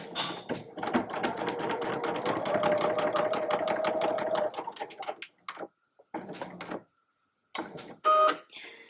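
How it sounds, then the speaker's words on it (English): Home sewing machine stitching around the edges of a sew-in label on a drawstring bag, a rapid mechanical whirring run of needle strokes that stops and restarts in short bursts with brief pauses between. "placing the label there and then sewing around the edges"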